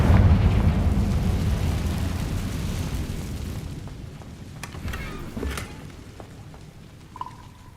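A Confringo blasting spell from Hogwarts Legacy bursts in a loud, rumbling explosion that opens the moment and slowly fades into a long, crackling tail with a few faint pops near the end.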